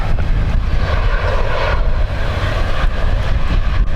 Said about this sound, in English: This is the Ryanair from Lanzarote.